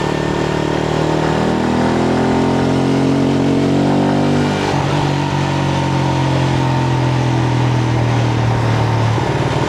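Steady motorbike engine running close by through morning traffic in Phu Quoc, with a rising rev partway through that settles into a smooth, continuous drone with no talk.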